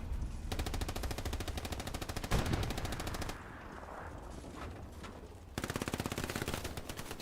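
Sustained automatic machine gun fire in the World War II shooter Hell Let Loose, loud and close, rattling in rapid bursts with a brief pause and a quieter stretch before a final fast burst.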